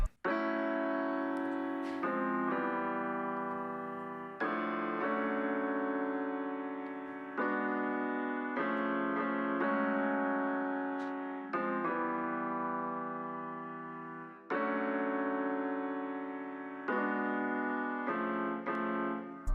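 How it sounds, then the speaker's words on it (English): Sustained electric keyboard chords from a city pop sample play alone, changing every couple of seconds in a smooth, mellow progression, each chord swelling in and slowly fading. "now we go to the keys, which is the overall background of the sample"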